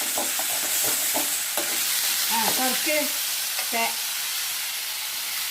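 Tomato sautéing with garlic and onion in a pan gives a continuous close sizzle and hiss, with a few stirring scrapes on top.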